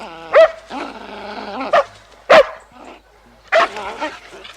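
Attack dogs bark in a film scene with an attack-dog trainer. Four loud, sharp barks come a second or so apart at close range, each trailing into whining, yelping tones.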